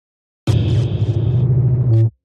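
Dark, menacing synth bass pitched down with a granular texture, a heavy growling rumble lasting about one and a half seconds with a gritty, shifting upper layer, then ending abruptly after a brief brighter accent.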